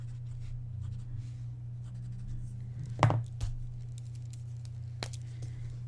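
Pencil blending on paper: soft, steady scratchy rubbing strokes close up over a constant low hum, with a couple of sharper scrapes partway through.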